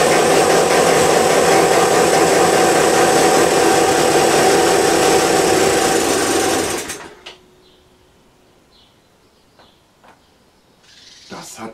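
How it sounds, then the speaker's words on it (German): Two-stroke Piaggio Gilera Runner scooter engine running on 1:50 premix, a loud, close, steady buzzing drone for about seven seconds, then cutting off into near silence with a few faint knocks. "wir starten noch"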